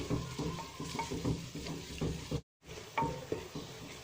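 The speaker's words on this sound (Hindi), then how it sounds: "लहसुन और अदरक डालने के बाद इसको फिर भूनेंगे" Onion, garlic and ginger are fried in a pot, a steady sizzle mixed with repeated stirring scrapes and utensil clinks, briefly cut by a short silent gap.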